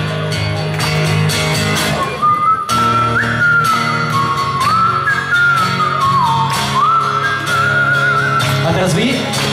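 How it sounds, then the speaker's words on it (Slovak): A live concert audience at a show whistles a sustained tune in unison, a loud wavering melodic line carried over the band's instruments and crowd noise. "A pozor, pojďme pískať"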